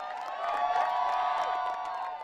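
Crowds lining the course toward the finish line at the 118th Boston Marathon, cheering nearly 36,000 runners: a sustained, moderately distant wash of whooping and cheering voices with no clear breaks.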